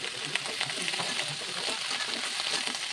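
Cauliflower, carrot, beans, spring onion, capsicum and tomato fry in oil in a wok for egg chow mein. The sizzle is steady, close and moderately loud, with faint stirring and no talk.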